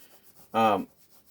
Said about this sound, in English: So when you're rubbing on it with metal compound, like I'm doing here,